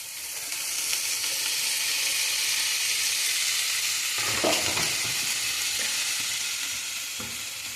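Tomato and green chilies fry in a pan for fish curry, giving a loud, continuous bright hiss of sizzling oil, with a few soft clacks of a spoon stirring partway through.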